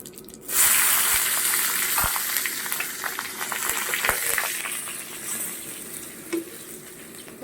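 Whole green chillies and spices, including kalo jeera and radhuni, hit hot oil with a sudden loud sizzle that keeps frying steadily and close, with faint stirring clinks and no talk.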